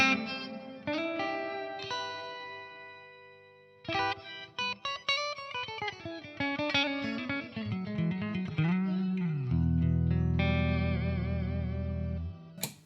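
An electric guitar played through a Poly Effects Beebo pedal with reverb: sustained notes and chords, a gliding pitch-bent passage, then a thick droning chord ringing out, wide and washy with heavy effects and no speech.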